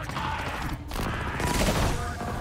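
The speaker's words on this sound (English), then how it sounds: "Oh, somebody's shooting." Dense, continuous video game gunfire from Halo Infinite fills the scene as a loud, sustained barrage of shots and blasts with a brief lull in the middle, heard alone without talking.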